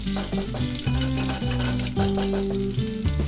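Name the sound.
mustard seeds frying in hot oil in a pan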